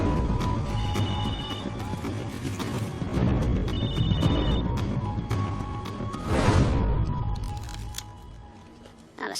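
A cell phone (a camera phone) rings after its number is dialled, its electronic ring coming in repeated bursts over a busy, rumbling background.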